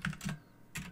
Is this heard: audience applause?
no